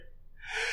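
A single quick sneeze, a sharp breathy burst after a brief intake of breath, fairly close and on its own without talk.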